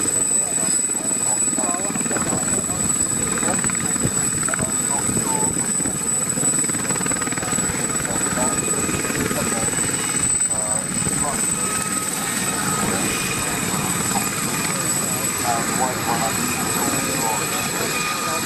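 An AH-1 Apache attack helicopter flies during a display at an airshow at RAF Cosford, making a steady rotor and engine drone that carries on throughout while people talk nearby.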